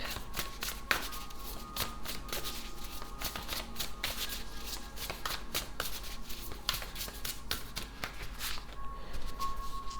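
An oracle card deck is shuffled by hand near the listener, with rapid riffling and flicking bursts that repeat over several seconds and no talking.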